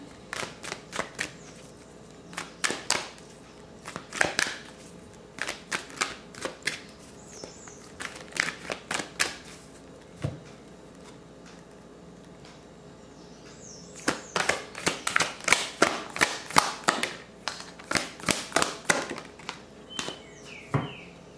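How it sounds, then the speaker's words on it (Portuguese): Tarot cards are shuffled and drawn in two long runs of sharp, close snapping and flicking sounds, with quieter scattered taps and rustles in between and no talking. "Vamos tirar mais cartas aqui."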